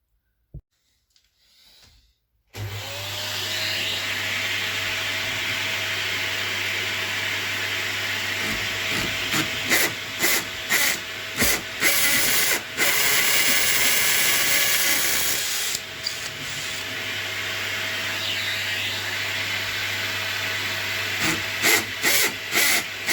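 A hammer drill on hammer setting drills into a wall, running loudly and steadily for a long stretch, starting and stopping a few times, with a constant low hum running beneath it.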